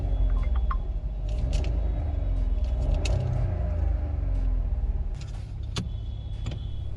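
The 1.5 litre TSI engine of a 2022 Skoda Kushaq with a DSG gearbox idles just after starting, a low steady rumble heard from inside the cabin with a few small clicks and knocks scattered over it.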